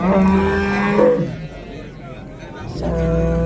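Cows low at a livestock bazaar in Rishton, two long deep moos close by, the first loud and drawn out, the second starting near the end, over faint crowd murmur.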